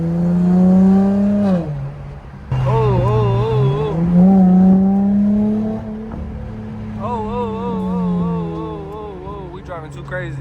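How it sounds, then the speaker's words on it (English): A V6 car engine pulls hard under acceleration, its droning note rising and falling through gear changes close inside the cabin, with people talking over it. "For me being a V6 owner, I felt like it doesn't sound that bad."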